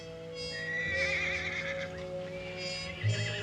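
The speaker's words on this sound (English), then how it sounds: "Seems to me I heard a horse." A horse whinnies in a long, wavering call, fairly clear against a quiet background, with a low snort near the end.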